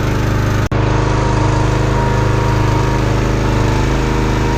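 A Harbor Freight 6.5HP gas engine on a 20-ton log splitter idles steadily while warming up, a loud, continuous near-field drone with one momentary dropout early on and no talking.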